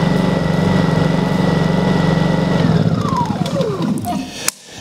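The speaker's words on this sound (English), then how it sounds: "Sam, your generator's still on" A Honda 2200i portable generator runs close by with a steady humming drone, then it winds down, the pitch sliding lower before it falls quiet after a final clunk.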